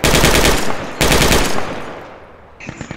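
Sustained automatic bursts of machine gun fire in the tactical shooter game Project Reality, two loud close volleys back to back, then a quieter tail with a few scattered shots.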